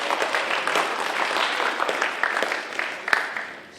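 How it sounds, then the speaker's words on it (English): At a 2025 university Honors Day ceremony, an audience claps warmly in a steady, moderately loud round of applause that tapers off near the end. "Give him a round of applause"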